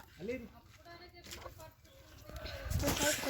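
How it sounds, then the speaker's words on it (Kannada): Chickens cluck with short warbling calls in a farmyard by a historical temple, where turkeys are also kept; voices and outdoor bustle run throughout. "ನೋಡಿ ಗೈಸ್, ಕೋಳಿಗಳು"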